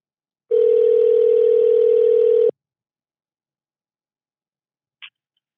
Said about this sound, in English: We are calling him real quick on the phone.